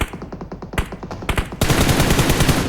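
Rapid automatic gunfire bursts from PUBG Mobile, repeated sharp cracks in quick rhythm at close range, ending in a denser sustained volley of shots.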